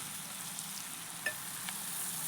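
Chicken pieces fry in a pan, a steady close sizzle with a faint stir or tap partway through, alone without speech.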